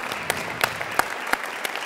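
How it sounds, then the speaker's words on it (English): An audience at a Bay Area talk with Van Jones breaks into applause, a steady wash of clapping with a few sharper claps standing out, fairly loud and with no voices. "Give him a round of applause."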